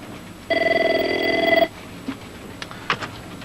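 A telephone bell rings in one loud, continuous burst of about a second, then stops, leaving quiet room noise with a few faint clicks.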